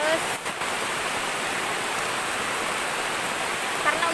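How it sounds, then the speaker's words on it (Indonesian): Heavy rain pours steadily on a mountain, a dense, even hiss close by that fills the whole stretch with no breaks, while a voice briefly rises over it. "Hujannya deras banget."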